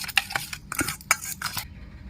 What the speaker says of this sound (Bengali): ভালো করে সব মিশিয়ে নিচ্ছি।